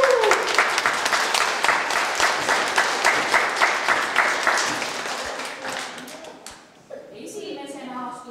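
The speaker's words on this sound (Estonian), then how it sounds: "Teeme kõigile esinejatele ühe väikese aplausi nüüd." Sustained applause from an audience at a children's theatre festival, dense clapping steady for several seconds and then tapering off, followed by a voice speaking.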